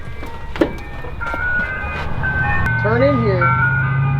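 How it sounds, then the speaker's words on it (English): An ice cream truck rolls past playing its jingle, a tinkling melody rising in loudness over a low engine hum, with someone talking over it. "Is that the ice cream truck?"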